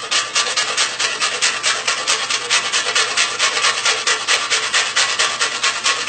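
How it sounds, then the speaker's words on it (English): Fruit is zested for a fruit salad in a quick run of close, rhythmic rasping strokes across a grater, even and steady with no talking. "I'm going to take some zest"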